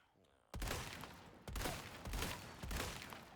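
Gunfire in Resident Evil 4 Remake: four loud, close shots spaced roughly a second apart, each with a sharp crack and a short ringing tail, with no voices.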